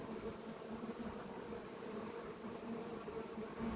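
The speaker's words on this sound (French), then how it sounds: "il y a les abeilles d'à côté qui commencent à s'agiter" Honeybees growing agitated beside a Dadant hive during a hive inspection, a faint, continuous low buzzing hum that holds steady throughout with no talk.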